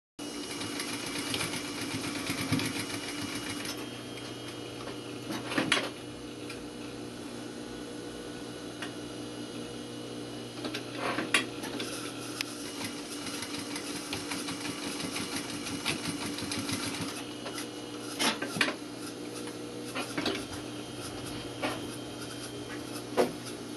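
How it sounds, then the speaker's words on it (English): Sewing machine stitching a back stitch on a welt pocket, a steady mechanical hum and needle chatter running for long stretches, broken by a few sharp clicks and brief stops, no talk. "I'm just going to put a little back stitch in here"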